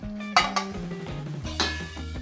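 Egg curry with fenugreek leaves being stirred in a pan, a spoon scraping and clinking against the metal in a few distinct knocks over a low sizzle, close by and with no talking.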